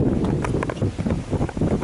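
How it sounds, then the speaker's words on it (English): Steady outdoor wind buffeting the microphone, a loud low rumble with gusty swells throughout and no clear voices. "It's windy as heck"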